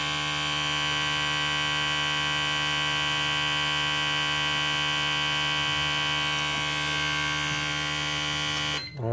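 Ford 24lb fuel injectors pulse on a flow test bench at a simulated 4,000 RPM, a steady loud buzzing drone with dense even harmonics that runs unchanged throughout and cuts off abruptly at the very end.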